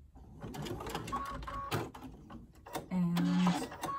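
A sewing machine back stitching over the ends of a simple fabric face mask, running in short mechanical bursts with a louder, steady stretch near the end; no speech over it.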